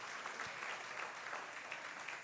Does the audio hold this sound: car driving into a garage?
no